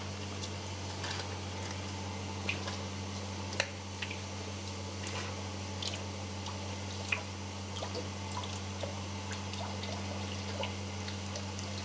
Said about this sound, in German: Da müsste eigentlich gleich irgendwann Wasser rauskommen.